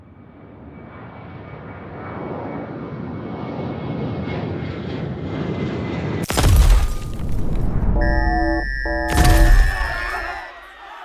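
A fixed-wing airplane engine drones and slowly swells as the plane flies in a tense game-like scene, then heavy booming impacts and shattering crashes cut in around the midpoint, with electronic alarm tones between them.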